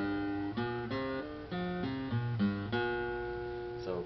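Acoustic guitar picking the verse of a Hmong song, single notes on the fifth string moving between open and fretted positions in a steady, clear sequence, played alone and close.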